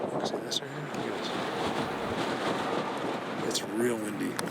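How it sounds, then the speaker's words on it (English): Steady wind buffeting the microphone outdoors, a low rushing roar throughout, with a few faint voices. "It's real windy."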